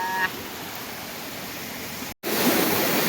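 River water pouring down from a cliff at night makes a steady, close, broadband rushing roar that cuts out for a split second before resuming just as loud.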